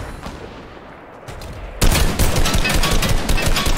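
Gunfire in Fortnite: a faint scattered shot or two, then a sudden loud burst of rapid automatic fire that keeps crackling in quick repeated volleys.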